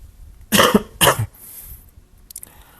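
Two sharp, close coughs in quick succession from a speaker during a conversation, followed by quiet background and faint rustling.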